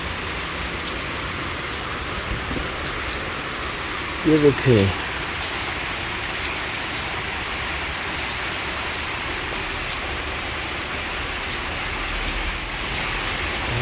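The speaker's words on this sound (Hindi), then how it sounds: "ये तो वाकई बारिश हो रही है भाई।" Heavy rain pours down steadily for the whole stretch, a loud dense hiss of drops on surfaces, with someone speaking briefly partway through.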